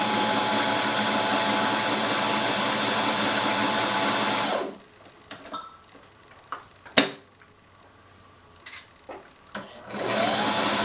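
A sewing machine stitches swimsuit fabric in a steady, loud whir for about four seconds. It then stops, leaving quiet clicks and handling sounds as the fabric is turned, and starts running again at the end.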